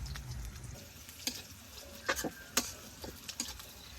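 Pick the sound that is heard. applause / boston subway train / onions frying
onions frying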